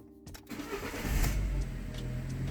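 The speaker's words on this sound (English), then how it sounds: "now if I try to start the car," A modern car's engine cranks briefly, then catches and settles into a steady idle, close by and fairly loud.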